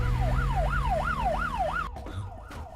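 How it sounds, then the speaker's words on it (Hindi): An ambulance siren wails in a rising-and-falling cycle, loud and close, for about two seconds, then cuts off abruptly and leaves only faint background noise. "ये तो पुलिस का सायरन है।"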